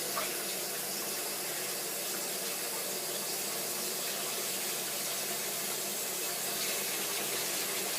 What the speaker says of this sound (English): Right, I'm just washing my hands.